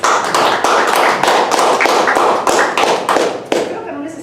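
Audience at a Convictorio 2021 talk gives a warm round of applause, dense rapid clapping filling the room steadily for several seconds before thinning out near the end.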